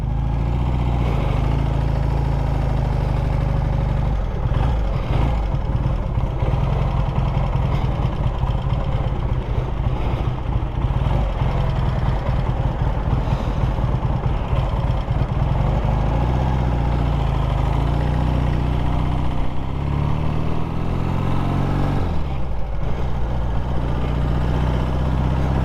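A vintage British Matchless G12 CSR motorcycle engine runs steadily close by, a continuous loud throbbing idle with small shifts in pitch toward the end.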